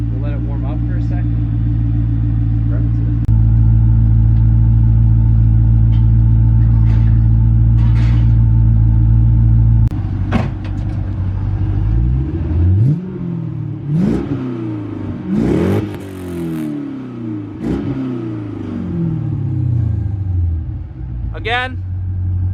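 C5 Corvette with LS1 5.7L V8 and Magnaflow axle-back exhaust, a loud steady deep idle rumble close by, then several short throttle blips rising and falling in pitch.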